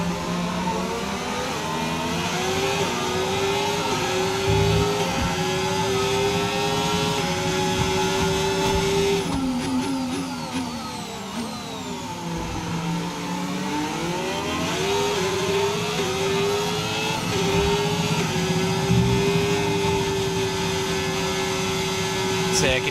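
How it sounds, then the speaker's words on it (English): F1 25 racing cars in the Chinese Grand Prix scream through rising and falling revs, a steady high engine whine with downshifts and a second car close behind, with talk over it. "I could hear Norris's engine right behind me"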